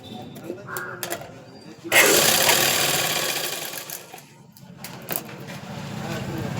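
A sewing machine stitching fabric: quiet handling noises at first, then a loud, steady mechanical whirr of stitching starts after about two seconds and runs on, dipping briefly before resuming.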